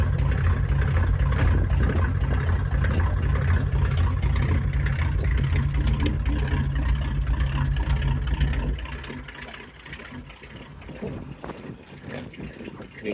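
A rebuilt 1948 Ford flathead V8 with cam and Edelbrock heads in a custom coupe, idling with a steady deep rumble close by, then dropping quieter and lower after about nine seconds.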